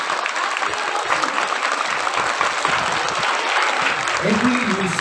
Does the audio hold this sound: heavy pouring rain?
no